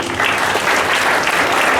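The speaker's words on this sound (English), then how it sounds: "Big round of applause for the selection team." At a school Earth Day assembly, students and staff clap for the selection team, a brief, even burst of dense applause filling the room throughout.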